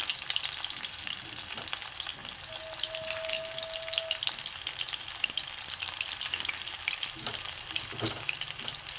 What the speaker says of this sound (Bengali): লোটে মাছের বড়াগুলো আমি ছেড়ে দেবো।